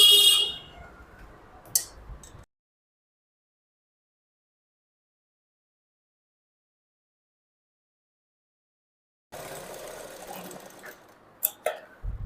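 A sewing machine stitches the front piece of a princess-cut designer blouse in two short, fairly quiet bursts of whirring separated by a long silence, with a few sharp clicks at the start and end.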